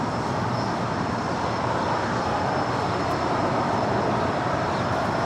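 Delta A330neo airliner in Team USA livery taking off from runway 24 left at LAX, a steady broad engine roar held at constant loudness with no talk.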